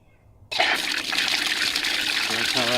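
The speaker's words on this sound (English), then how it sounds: "Okay, I'll turn the water on." Water bursts on through a garden hose sprinkler timer after a brief quiet start, then a steady close rushing flow with a faint voice near the end.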